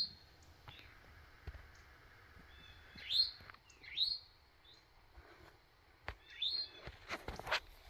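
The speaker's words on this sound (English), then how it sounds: "I love hearing the birds." In a quiet mountain meadow in the morning, a few birds give short, clear chirps and whistled calls at a distance, spaced apart. Soft footsteps and clicks sit underneath.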